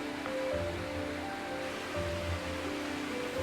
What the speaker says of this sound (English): the sound of gushing water grew stronger.